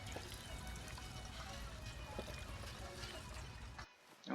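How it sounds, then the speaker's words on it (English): Water being drunk in Fallout 4 makes a soft, continuous pouring and gurgling sound, kept low and steady, and it cuts off abruptly near the end. "I will drink some of their water."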